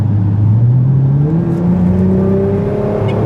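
A Nissan GT-R with 735 horsepower and a custom aftermarket exhaust revs hard, the deep, throaty exhaust climbing steadily in pitch as it accelerates, loud and close throughout.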